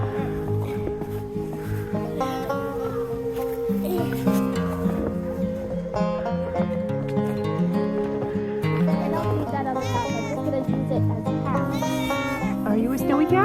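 A cat meows several times in a mewling, drawn-out way, close and fairly clear, while people talk intermittently in the background.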